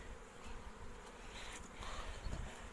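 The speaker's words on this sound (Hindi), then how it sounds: "ये जी शेर जमान साहब हैं हरिपुर में, और इन्होंने अपने मगज़बानी की हुई है, छत्ते रखे हुए हैं जनाब मक्खियों के।" Honey bees at an apiary with hive boxes produce a steady, soft, continuous buzz, like a dense swarm heard from a short distance with no voices.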